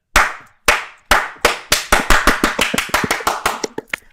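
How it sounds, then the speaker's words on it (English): Hands clap nearby, starting with a few slow, spaced claps, then speeding into a rapid run of sharp, loud claps, alone without talk. "I think I could do a real clap this morning"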